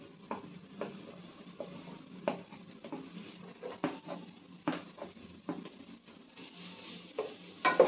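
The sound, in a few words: grated garlic frying with onions in pan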